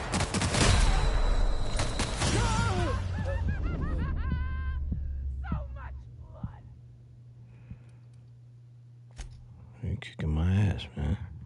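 A loud, rapid burst of gunfire from a gun in The Outer Worlds video game fills the opening seconds. Afterwards people talk and murmur over quieter game sounds.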